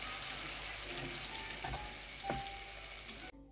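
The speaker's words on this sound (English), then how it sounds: "now we are going to stir gently" Cream being stirred gently into salmon in a frying pan, a steady close sizzle with soft scraping strokes, continuous and moderately loud, ending abruptly.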